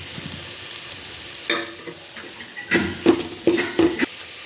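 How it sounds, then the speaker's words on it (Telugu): Onion paste frying in a pan, a quiet low sizzle followed by several louder clattering stirs and scrapes of a spoon against the pan. "ఉల్లిపాయ పేస్ట్ ఫ్రై అయిపోయింది కదా"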